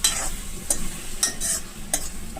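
Coriander chutney frying in oil in a pan, with a steady hiss and several crisp, close scrapes of a spoon stirring the thick paste at uneven intervals.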